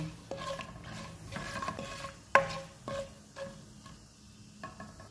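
Whole cloves, green cardamom, curry leaves, a bay leaf and dried red chilies crackle in hot oil in a pan, with a soft steady sizzle broken by scraping stirs and one sharp clatter midway.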